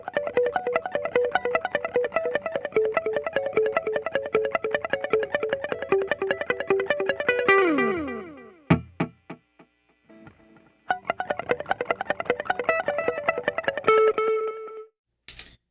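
Electric guitar through a Boss DD500 delay pedal on its tape setting, repeats timed to a dotted eighth or quarter note, on a Temple Audio Trio 21 pedalboard: steady picked notes with trailing echoes, a brief pause with scattered hits, then the pattern resumes.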